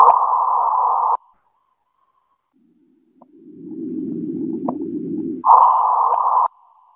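A gravitational-wave chirp from merging black holes, converted to sound, plays as steady mid-pitched tones that cut off and then return, separated by a lower rising rumbling sweep. The tones are loud and clean against silence.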